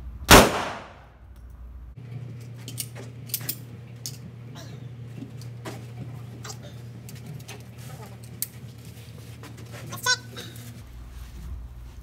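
A single .45 ACP pistol shot into a fixed 15kg dummy: one sharp, loud crack right at the start that fades quickly, followed by quiet outdoor background with a low hum and small clinks.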